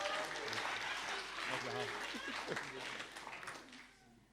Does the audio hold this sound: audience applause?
yes